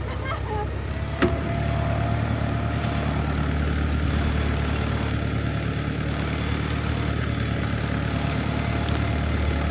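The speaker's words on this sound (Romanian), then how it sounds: "Da, mă, cu tractorul chiar ajunge oriunde." A tractor engine runs steadily while driving on a mountain road to a sheepfold, a continuous low rumble with a faint knock early on and no break throughout.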